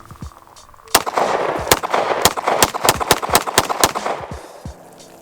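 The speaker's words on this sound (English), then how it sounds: "let's quit talking and put some rounds through this sexy ass Highpoint" Hi-Point C9 pistol fired outdoors, about a dozen sharp, loud shots in a steady rapid string with a short pause near the end, each crack followed by brief echo, no talking.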